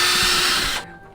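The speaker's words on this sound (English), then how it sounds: "there's the door. Let's drill it." A power drill whirs loudly and steadily into a door, running at full speed for most of the moment before stopping abruptly, leaving only a faint hum behind.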